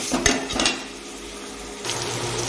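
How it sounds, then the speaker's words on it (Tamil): Rava kichadi ingredients stirred and sautéed in a pan, with a couple of scraping clatters from the utensil early on over a soft steady sizzle that picks up again near the end. "இது நல்லா இப்போ வதங்கி வரட்டும்"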